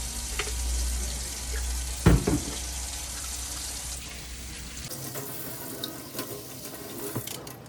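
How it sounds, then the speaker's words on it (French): Tineco vacuum parts rinsed under a running tap, a steady splashing water stream with a clunk of handling near two seconds, the flow easing after about five seconds into quieter drips and rustles. "tout rincer à l'eau claire et laisser sécher"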